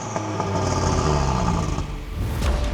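A 2026 Audi RS3 Sportback with a tuned 540 hp five-cylinder engine revving, a loud, close, rough roar with rising and falling pitch and a dense warbling burble, alone without talk.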